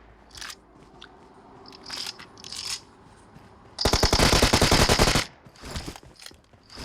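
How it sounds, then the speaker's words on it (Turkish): A DBS shotgun fires in the mobile battle royale game PUBG Mobile: a loud, rapid-fire burst lasts over a second, with quieter clicks and game sounds before and after. "sonuncu adama da DBS vurdum arkadaşlar"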